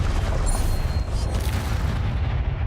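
Spell blasts in the Hogwarts Legacy video game, a loud continuous rumbling boom with a dense low-end roar and brief bright zaps layered on top, sustained for a few seconds with no clear talking.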